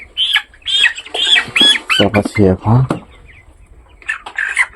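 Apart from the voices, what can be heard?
broiler chicken flapping and clucking while caught for weighing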